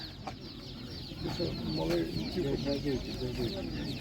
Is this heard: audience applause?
no